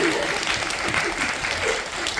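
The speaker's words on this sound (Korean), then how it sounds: "이쯤에서 박수가 나올 것 같아요." Steady audience applause at a rural agriculture forum, a short unbroken wash of clapping with some voices mixed in.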